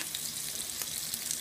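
Food frying in hot oil in a home kitchen, seasoned with Old Bay, gives a steady, soft hiss and crackle with scattered small pops throughout.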